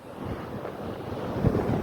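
Large storm-driven sea waves surge and crash under heavy gusting wind that buffets the microphone, a constant rough roar with a stronger swell near the end.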